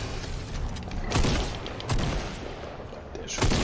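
Gunfire in the video game Love Island: three sharp shot bursts at roughly even gaps over a busy, noisy game soundscape, with no talking.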